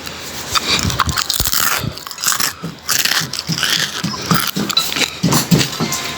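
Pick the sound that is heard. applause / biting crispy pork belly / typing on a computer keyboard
biting crispy pork belly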